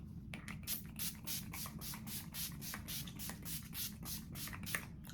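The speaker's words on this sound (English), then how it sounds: "I'm going to take the spray and I am going to" A bottle of makeup setting spray mists onto a face in a rapid series of short, crisp hissing pumps, close to the ear and steady for several seconds.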